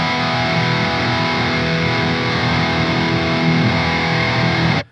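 Heavily distorted electric guitar held as a dense, steady roar through a KillGate noise gate, sustained loud for about five seconds and then snapping abruptly to silence at the end.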